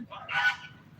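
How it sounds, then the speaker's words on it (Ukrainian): A single loud honk from a goose rings out close by over a soft murmur of other fowl, grey and white geese and ducks. "Бачите, усі гуси, і сірі, і білі, і качки."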